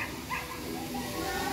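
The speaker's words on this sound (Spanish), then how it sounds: "se escuchan los ladridos de los perros" Dogs bark and whimper in the distance outdoors, under a steady ambient background, with roosters and other neighbourhood sounds around.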